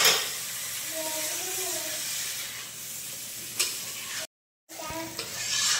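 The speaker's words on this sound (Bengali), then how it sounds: "এগুলো পেঁয়াজের সঙ্গে খুব ভালো করে ভেজে নেব" Boiled taro, radish and onion sizzle steadily as they fry in a pan and are stirred, with occasional scrapes of a spoon against the metal and a brief dropout partway through.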